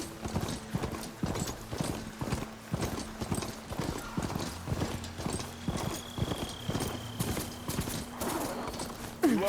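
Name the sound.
Charger herd hooves in video game Horizon Forbidden West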